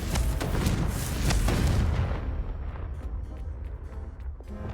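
The Confringo fire spell explodes in the Hogwarts Legacy video game: a loud, close booming blast that lasts about two seconds, then fades into a lower rumbling tail.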